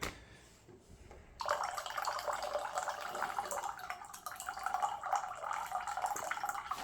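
Filtered water pours from a ZeroWater 30-cup Ready-Pour dispenser into a container: after a quiet start, a steady trickling stream starts suddenly and keeps running, fairly close and unaccompanied.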